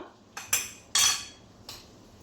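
A metal lid goes onto a cooking pot of simmering payar thoran with a few sharp clanks and scrapes in quick succession, close and fairly loud, with no talk.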